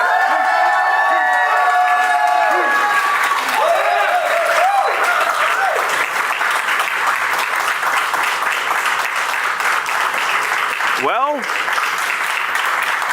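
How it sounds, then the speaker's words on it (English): Sustained audience applause fills a San Diego Comic-Con 2023 panel hall, dense and loud throughout, with cheering mixed in and voices talking over the clapping. "that clapping is still going"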